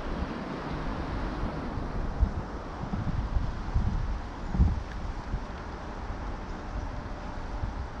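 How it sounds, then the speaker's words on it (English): Steady low wind rumble buffeting the microphone, a light wind of about 3-4 mph, with a few stronger gusts; no voices. "Well, it's a bit windy."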